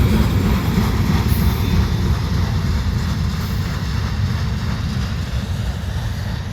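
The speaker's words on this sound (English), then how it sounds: "The symbol for this train is the CSX C700 coming from New Pennsylvania heading south to Stillsboro, Georgia" CSX C700 freight train rolling past in the early morning, a loud continuous low rumble and rail roar with a steady hiss, close and without a break.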